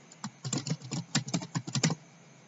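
Fingers tap out a word on a computer keyboard while editing a document in Ms Word, a close, quick run of soft clicking keystrokes in small bursts with no talking.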